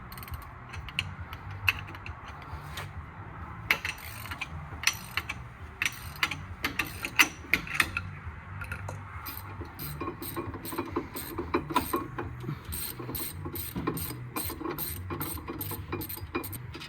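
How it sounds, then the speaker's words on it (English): A ratchet clicks in rapid bursts of ratcheting ticks while loosening the front brake caliper bolts on a Ford Focus MK2 1.6 TDCi, with metallic mechanical clatter close by and no talking. "To break them loose. I think the same with the bottom bolt."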